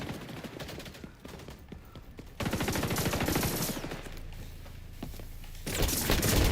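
Rapid automatic gunfire in the shooter video game XDefiant, with dense bursts that swell louder partway through and again near the end, over a layered game soundscape.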